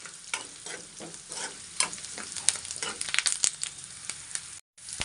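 Bansi rava semolina fries in a pan for upma while being stirred, a steady close sizzle with frequent scraping strokes of the spoon, ending in a brief cut of silence.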